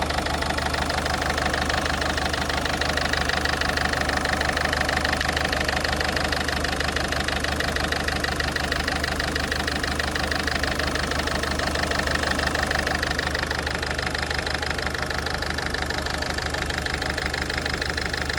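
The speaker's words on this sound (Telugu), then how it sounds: "ఇంజిన్ నాయిస్ ఎలా ఉంది ఇప్పుడు? స్మూత్ అయిపోయింది." A Ford Figo that has run 2.5 lakh km idles after a carbon cleaner treatment, a steady close engine drone with an even, fast mechanical pulse throughout and no talking.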